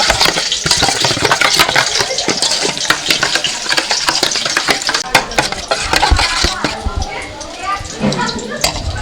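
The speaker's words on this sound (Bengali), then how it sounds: "সব কিছু ভালো করে একটু মিশিয়ে নিচ্ছি।" Spices, sugar and whisked yogurt are mixed by hand in a bowl, a spoon scraping and clinking against the sides in quick repeated strokes, while someone talks throughout.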